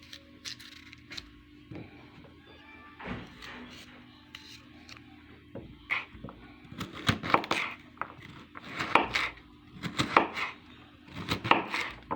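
Repeated knife chopping of carrots on a cutting board, irregular bursts of sharp thunks growing denser and louder, close by with a low background hum.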